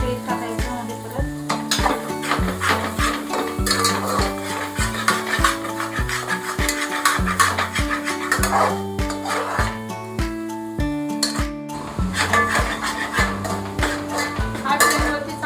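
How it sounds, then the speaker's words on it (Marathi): Usal masala of onion, tomato and garam masala stirred in oil in a pan, with loud, continuous clanking and scraping in a fairly even rhythm over a tonal background that sounds like music, and no talk. "आपल्याला व्यवस्थित हलवायचं आहे."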